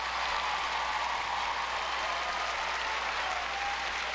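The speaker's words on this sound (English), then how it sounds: "everybody give a hand to everyone that helped you guys in your squares to come out here" An audience at a square dance competition gives sustained, dense applause for the helpers, steady and even throughout with no pauses.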